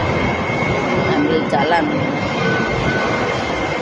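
A KRL commuter train rumbles past with steady rolling noise and a brief squeal, while someone talks over it.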